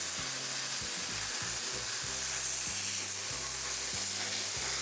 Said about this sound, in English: Now we need to turn over my sausages